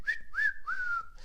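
A person whistles three short rising-and-sliding notes, close and clear with no other sound, mimicking an old man.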